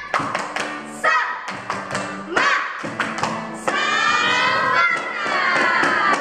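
At a Sunday school service, children clap a rhythmic spirit clap in quick repeated bursts of sharp taps, pausing briefly between groups, then shout and cheer together in a sustained noisy stretch.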